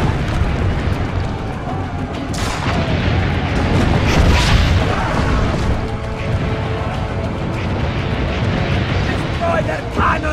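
Booming cannon blasts and crashing explosions roll continuously in a loud, dense battle din in the video game Assassin's Creed Brotherhood, with voices shouting over the chaos.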